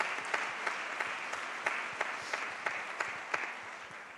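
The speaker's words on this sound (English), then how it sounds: "Would you give them a round of applause?" An audience at an international government summit applauds in a sustained, even wash of many hands clapping, moderately distant and unbroken.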